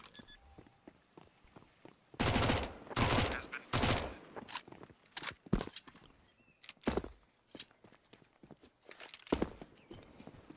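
Gunfire from the video game Counter-Strike during a competitive match, with bursts of sharp shots in clusters followed by scattered single cracks and lighter clicks, fairly close and loud against a quiet background.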